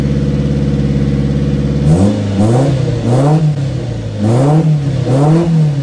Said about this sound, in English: It revs up so much better.